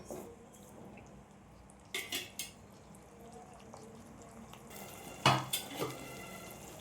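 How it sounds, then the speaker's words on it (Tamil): A spoon scrapes and clinks in a pan of okra tamarind curry in short, separate bursts over a faint low simmer, with quiet pauses between the strokes and no talking. "புளி பச்சை வாசம் போகிற வரைக்கும் நல்லா இப்படியே வதக்கிட்டு இருக்கலாம்."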